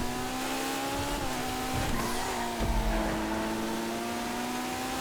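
A race car in the FiveM racing game drives hard with a steady engine drone and tire squeal as it skids, loud and continuous throughout with no talking.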